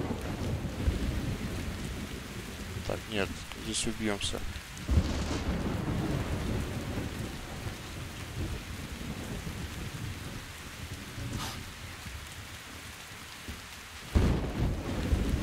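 Heavy rain pouring steadily with deep rolling thunder in the game Metro Exodus, a dense wash of downpour under faint radio-like blips, with sharp thunder cracks near the middle and end; someone speaks briefly early on.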